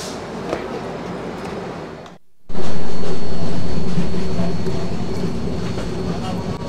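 A passenger train at a railway station on the Kolkata to Mysore route, with a steady loud rumble of rolling carriages and a brief dropout before the noise returns and slowly fades; faint voices can be heard underneath.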